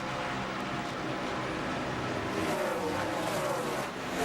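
NASCAR stock cars, including teammates 48 and 5, racing toward a last-lap finish: a steady, dense roar of engines that holds throughout, with no voices.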